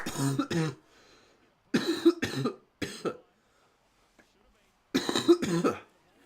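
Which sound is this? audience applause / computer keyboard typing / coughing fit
coughing fit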